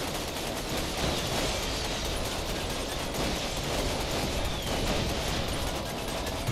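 Rapid mechanical gunfire in a video game shooting at shield generators, a dense continuous rattle of automatic fire filling the whole stretch at steady loudness, with no talk over it.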